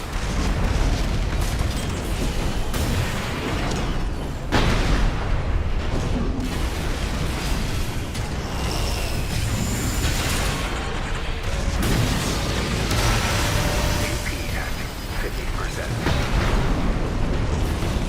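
Rocket explosions from the mech combat game Armored Core VI during a PvP match, heavy booming blasts layered over a dense, continuous roar of game action that stays loud throughout.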